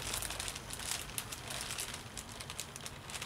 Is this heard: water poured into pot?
no